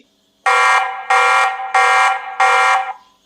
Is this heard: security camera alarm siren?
yes